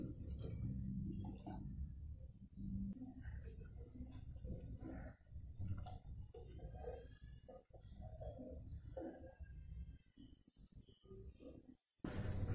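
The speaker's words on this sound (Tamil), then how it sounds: "நல்லா கொதிக்குது." Ground masala water with cloves, cinnamon, bay leaves and curry leaves boiling in a pot for mutton curry, with soft, irregular bubbling and gurgling heard up close at a quiet level.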